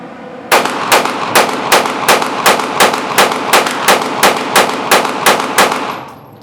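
A pistol fitted with an Olight PL Pro weapon light fires about fourteen loud, sharp shots in a steady, quick rhythm, each crack close and evenly spaced with ringing echo between.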